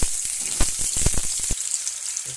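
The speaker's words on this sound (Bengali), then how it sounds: "আলুটাও দিয়ে দিচ্ছি এতে" Potato pieces for a meat curry hit hot oil in a pan, with a burst of sharp crackles and spatters over a continuous bright sizzle, close and moderately loud, and no voices.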